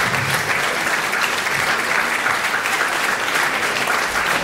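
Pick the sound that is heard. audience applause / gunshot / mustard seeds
audience applause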